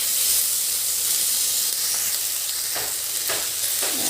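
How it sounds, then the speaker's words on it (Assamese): Spices and onion-tomato masala frying in oil for an Assamese fish curry make a loud, steady hiss and sizzle up close, with a few spoon strokes scraping through toward the end. "খুব ধুনীয়া গোন্ধ এটা আহিছে, মছলাখিনি ভাজ খাইছে।"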